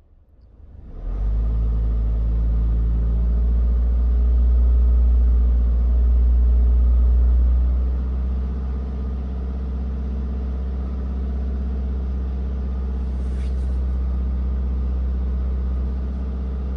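A Citroen Dispatch 2.0 BlueHDI diesel van engine starts after a service and is revved, a steady low rumbling idle that swells briefly then settles, close and alone.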